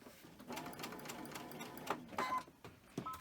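Quilt pieces being stitched on a sewing machine set to a 2.0 stitch length, a steady whirring run of stitching with brief pauses and bursts, close and clear with no talk.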